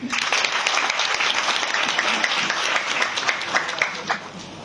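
An audience at a national-level seminar breaks into applause, a dense sustained patter of many hands clapping together that carries on evenly and fades slightly toward the end.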